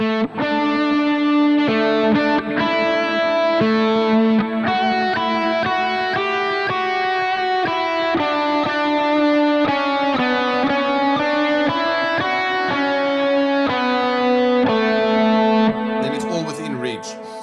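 A distorted electric guitar plays a continuous melody, note after note, loud and sustained with a touch of effects, and no voices are heard.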